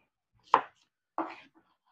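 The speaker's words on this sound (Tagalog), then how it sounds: "dalawang sibuyas yung aking uh, gagayatin" Onions being sliced with a knife, giving two separate, sharp chopping knocks about half a second apart, close and clear against silence.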